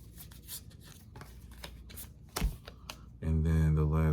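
Tarot cards being shuffled by hand, a quick run of soft riffling slaps and taps under a close voice, followed by a short burst of speech at the end.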